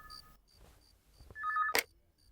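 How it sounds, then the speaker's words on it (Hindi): Telephone ringing indoors at home, an electronic tonal ring starting faintly then a louder burst of ringing followed by a sharp click, with no talking over it. "वो फोन देखो।"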